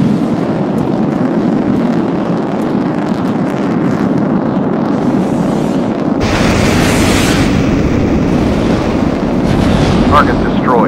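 Explosions in the Sky Gamblers Infinity jet combat video game rumble over a constant engine drone, with a sharp, heavy blast partway through followed by lingering roar.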